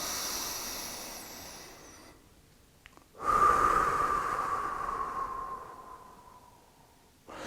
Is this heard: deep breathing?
yes